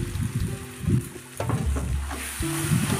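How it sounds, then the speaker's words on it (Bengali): Spice paste with red chilli and cumin powder sautés in oil for paneer masala, a close sizzle broken by a sharp clack and a few brief low thuds and scrapes of stirring. "মশলাগুলো এবার ভালোভাবে আমি কষিয়ে নেব।"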